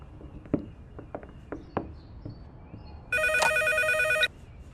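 Several soft footsteps and small knocks come first in a room, then a telephone rings with one loud, sustained electronic trill before cutting off.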